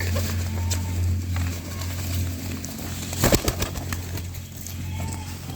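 Fancy pigeons of the Sirazi, Fillback and Homa breeds coo in a loft, soft low calls over a steady background hum, with a brief louder flutter or knock midway and no talk.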